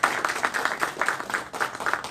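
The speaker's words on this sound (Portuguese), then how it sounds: "uma salva de palmas aí, por favor" A short burst of audience clapping at a startup meetup, uneven and moderately loud, fading slightly toward the end.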